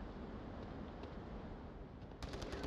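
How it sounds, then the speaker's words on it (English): Bursts of automatic gunfire in a tactical shooter match, sustained rattling under a steady noisy backdrop, with a sharper cluster of rapid shots near the end. "Now, more gunfire coming."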